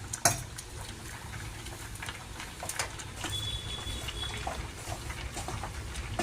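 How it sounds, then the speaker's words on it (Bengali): Flour is stirred gently into melted butter in a kadai with the gas turned off, a soft continuous scraping and swishing of the spoon close up, with occasional clinks against the pan. "ময়দাটা হালকা হাতে এখানে আমি আস্তে আস্তে মিক্স করে নেবো এতে"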